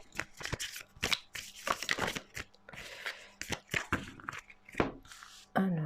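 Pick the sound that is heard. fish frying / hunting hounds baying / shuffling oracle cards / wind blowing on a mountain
shuffling oracle cards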